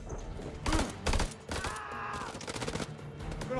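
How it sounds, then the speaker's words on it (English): Gunfire bursts in the video game House of Ashes, several sharp volleys in quick succession up close, then a sustained clattering exchange with a tonal sound layered in. "We're under fire."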